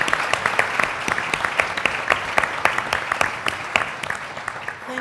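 A conference audience at a shipping forum applauds the Hellenic Coast Guard with loud, sustained clapping, individual sharp hand claps standing out over the crowd's steady patter.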